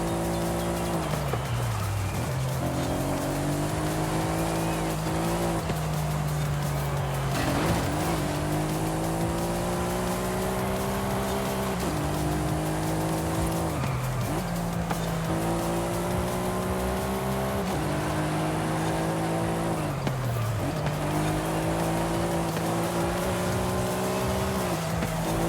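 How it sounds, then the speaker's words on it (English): Ferrari engine in Forza Horizon 5 roars continuously, revving up through gears with repeated rising pitch sweeps and shift drops, loud and sustained with tire noise underneath. "You can just hear that Ferrari behind me."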